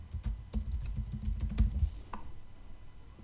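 Close, brisk typing on a computer keyboard while writing an Excel macro, a quick run of clattering keystrokes with a few heavier taps, fading out near the end.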